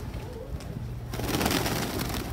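Pigeons coo in a low, soft murmur close by, with a rustling flurry of wings and movement building up midway.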